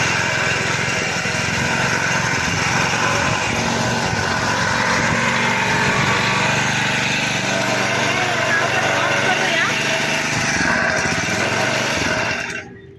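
A small power weeder's engine starts and runs steadily at a high-pitched, buzzing idle, loud and continuous throughout, before cutting out abruptly at the end. A person talks over the engine noise.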